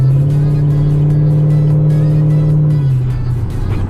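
A Chevrolet Camaro SS V8 fitted with a Pedal Commander throttle controller holds a loud, close, sustained rev, then drops off near the end.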